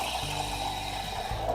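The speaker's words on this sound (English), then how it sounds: "put the steam arm deep into the milk" De'Longhi espresso machine steam arm plunged deep into a jug of milk, giving a steady close hiss with low gurgling rumble, continuous and alone.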